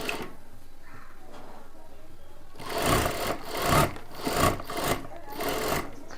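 A sewing machine stitches a pocket onto a kurta, starting faint and then running in several loud bursts of rapid mechanical clatter separated by brief pauses.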